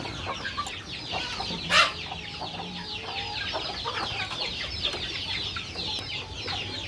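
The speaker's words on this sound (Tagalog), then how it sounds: "yung mga native chicken ko guys, naghihintay ng pagkain" Native chickens waiting for food cluck and chatter in a busy overlapping flock, with a few sharper squawks standing out against faint farmyard background, nobody speaking.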